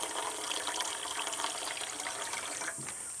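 Drinking water pours steadily from a jerrycan at a jungle campsite beside a caravan, a continuous close splashing gush with no voices over it.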